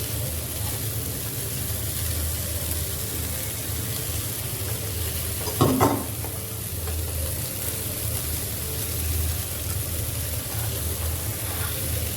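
Spicy, crisp fresh bombil fish frying in a pan over low gas, giving a steady, soft hiss and sizzle throughout, broken by one brief clatter near the middle; nobody speaks.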